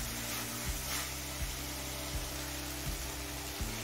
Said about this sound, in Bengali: এবার হাই ফ্লেমে কিছুক্ষণ কষিয়ে নেব